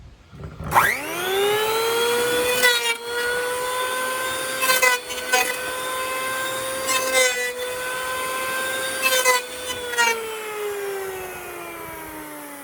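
A 6-inch power planer makes several passes on wood, a loud steady whine with ringing harmonics broken by brief rough cutting bursts, running close and alone for about twelve seconds.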